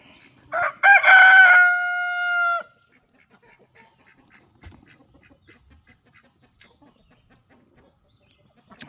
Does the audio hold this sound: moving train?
no